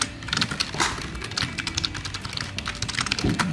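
Quick bursts of clicky keystrokes on a computer keyboard, irregular and close, with short pauses between clusters of taps.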